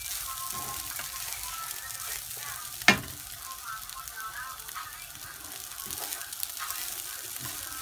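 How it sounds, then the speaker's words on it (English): Quinoa is stir-fried in a pan, giving a steady soft sizzle with light stirring scrapes and one sharp clack near the middle. "I'll just continue stir frying that, making sure everything is incorporated."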